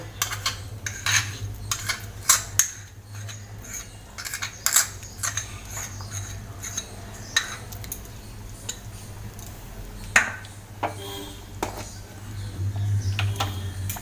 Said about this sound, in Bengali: গ্যাসটা নিভিয়ে দিয়ে আমি মেশাচ্ছি, কারণ গ্যাসটা জ্বালিয়ে রাখলে আরও বেশি শক্ত হয়ে যাবে